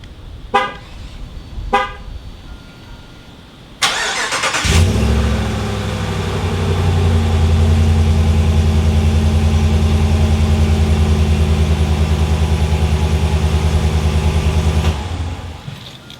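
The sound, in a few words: 2021 Ram 1500 cold start with Borla S-Type exhaust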